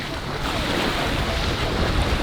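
Ocean waves breaking on a beach in Nicaragua, heard as a steady, loud wash of surf mixed with wind buffeting the microphone, continuous throughout with no distinct individual breaks.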